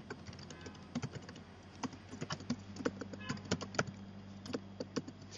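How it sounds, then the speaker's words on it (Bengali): Steady typing on a computer keyboard, with quick irregular clusters of close, crisp key clicks continuing throughout at a moderate pace with no voices. "তারপর আমি বাকি মেসেজগুলো লিখতে পারি এভাবে।"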